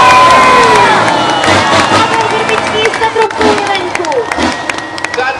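A crowd cheers and claps at a Tatra truck challenge event, a loud, busy mix of clapping, shouting and voices, with engine tones and whistles running underneath.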